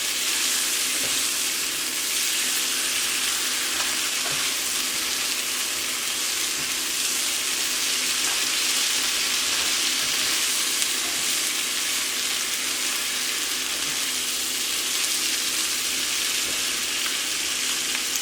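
Wild Alaskan pollock sizzles in a pan with green beans and tomatoes as chili lime sauce is stirred in. A loud, steady frying hiss runs throughout, broken by faint scrapes from the stirring.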